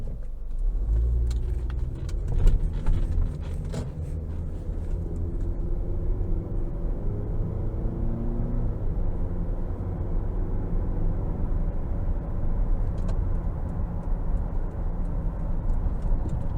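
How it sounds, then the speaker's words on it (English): A 2009 Toyota Camry LE with a naturally aspirated four-cylinder pulls away from a parking lot, a steady in-cabin engine drone and road rumble building as it drives, with a brief jingle of keys early on. "next we're gonna go ahead and take this 2009 Camry out on the road for a test drive"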